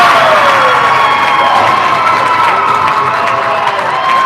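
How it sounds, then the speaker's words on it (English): Fans at a youth hockey game cheer loudly after an empty-net goal, a dense, sustained roar of shouting and some clapping close by. "the crowd over here are going nuts"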